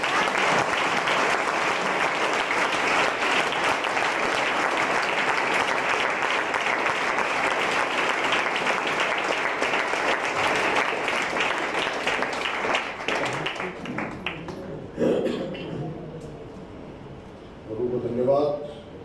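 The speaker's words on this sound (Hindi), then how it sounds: "ईश्वर के लिए जोरदार ताली बजाए।" A church congregation claps loudly and continuously in sustained applause, which fades out near the end as a voice begins speaking.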